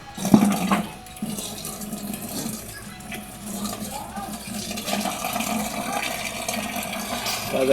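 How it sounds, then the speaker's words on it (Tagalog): Water pours and gushes into a Sharp single-tub washing machine refitted with a Camel 6.2kg timer, a steady close rushing fill that keeps running beneath faint talk. "Lagyan natin ang tubig guys."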